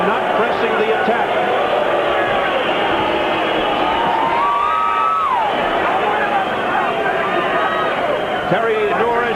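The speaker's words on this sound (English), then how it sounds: "Now the crowd booing." Arena crowd at the Terry Norris v Simon Brown WBC light middleweight title boxing match makes a sustained, loud roar of booing and murmuring that runs steadily throughout, with a commentator's voice over it.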